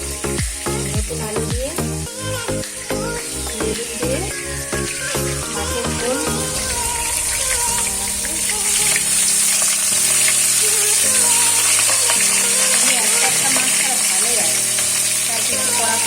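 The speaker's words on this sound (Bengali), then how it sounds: "পেঁয়াজ কাঁচা লঙ্কা কুচিয়েছি ভাজবো" Chopped onion and green chili sizzling in hot oil, a steady frying hiss heard under music with strong rhythmic notes throughout.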